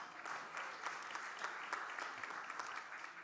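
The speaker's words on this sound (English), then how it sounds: "Give yourselves a big clap." Audience applause at a panel event: a sustained wash of many hands clapping, steady and moderately distant, with no talk over it.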